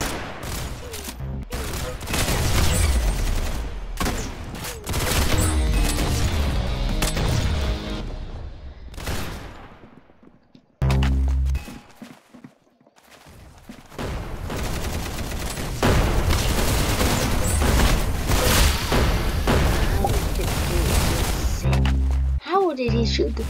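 Gunfire in the Roblox shooter Arsenal: dense, loud bursts of rapid fire and booms, a brief near-silent lull midway, then sustained shooting again, with excited voices talking over the action.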